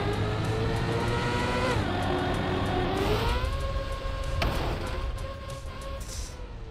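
A race car in a Trackmania Kacky map hums along with a steady engine drone whose pitch climbs and shifts as it accelerates and turns, with a thump near the middle, loud and continuous throughout.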